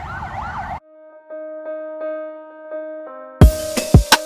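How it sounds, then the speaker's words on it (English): Ambulance sirens wailing through city streets near a cycle shop, a loud warbling siren that cuts off, a lingering steady tone, then sharp bursts of street noise and passing traffic up close. "the ambulances are continuously going around"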